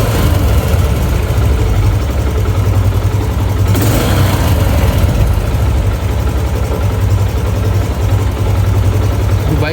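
A Yamaha YBR125 motorcycle with a butterfly carburetor runs loudly and close, a constant throbbing engine drone with a brief rise in revs partway through, then settling back near idle.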